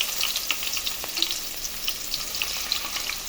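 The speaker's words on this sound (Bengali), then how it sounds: "প্রথমে দিয়ে দিলাম তেলকে গরম করে নিলাম। এর মধ্যে দিয়ে দিব পেঁয়াজ কুচি" Chopped onion frying in hot oil, a bright close crackling sizzle that holds steady with faint stirring ticks, no voices over it.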